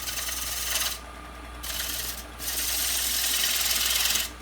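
A gouge cuts wood from a winged bowl spinning on a lathe, a loud continuous scraping hiss over a low motor hum, breaking off briefly twice between passes.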